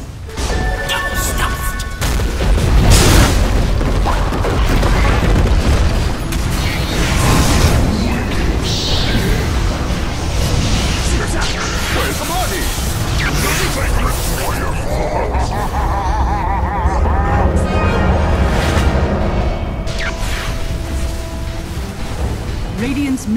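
Dota 2 battle sounds during an attack on a mid-lane tower: dense, loud impacts, crashes and booms rumble continuously while a game announcer's voice speaks over the action.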